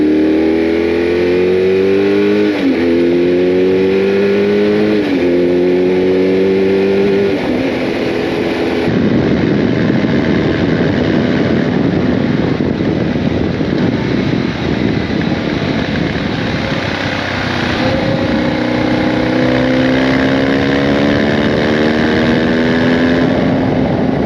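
A BMW GS 1150 motorcycle rides along the road, its engine loud and close, climbing through rising revs in repeated gear-change sweeps, then settling into a steady roar with heavy wind rush.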